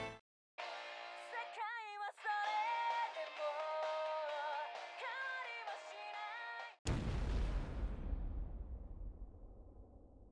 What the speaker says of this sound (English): Where'd the explosion come from?